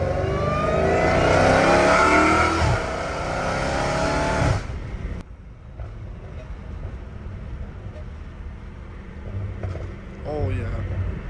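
A Dodge Hellcat Redeye engine revs hard and loud up close, a roaring burst that cuts off abruptly and settles to a lower rumble, followed by a short second rev.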